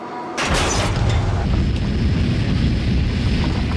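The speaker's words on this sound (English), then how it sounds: "I heard like a thud." A heavy thud as the cargo door of a United Airlines airliner on Flight 811 blows out, a sudden loud boom followed by a sustained roaring rumble that fills the rest of the clip.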